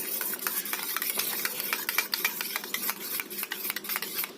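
Chicken biryani meat being mixed with spices and a couple of drops of sweet attar, steady scraping and stirring strokes with a repeated rhythmic texture, close and moderately loud, no voices.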